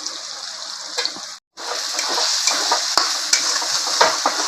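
Ginger paste goes into a pan of hot oil for a vegetarian stuffed pointed gourd filling, giving a steady close sizzle with scattered spoon scrapes and light clinks, broken by one brief silent gap.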